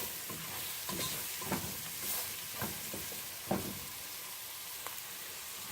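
Onions for a chicken curry fry softly in a pan and are stirred from time to time. A low sizzle hisses throughout, broken by occasional scraping and stirring knocks at close range. No one speaks.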